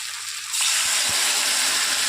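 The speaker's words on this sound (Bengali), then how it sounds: "এবার আমি জল দিয়ে দেবো" Water poured into a hot pan of small crabs cooking in a spiced mixture, setting off a sudden loud hissing sizzle that builds and holds steady right up close.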